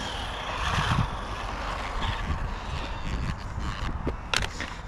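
DeeRc 8618 mini RC truck driving over rough ground, a busy rumbling of small motor whine and rattling chassis and wheel bumps, moderately loud and continuous.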